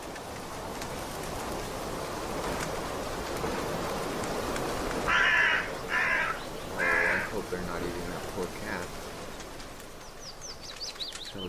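Crows caw in the horror adventure game The Last Door, a few harsh calls standing out over a steady rain-like ambient wash, with some background noise throughout.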